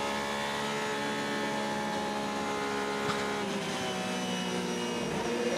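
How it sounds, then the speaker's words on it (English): A race car engine howls steadily at Le Mans during the 24-hour race, a sustained tonal drone heard from onboard, loud and even throughout with a brief change in pitch partway through. "Just listen to this engine howl around Le Mans."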